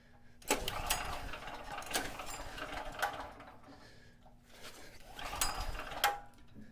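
A cheap secondhand portable generator engine is cranked repeatedly without catching, quiet bursts of rattling mechanical churning separated by pauses, fairly close and faint overall.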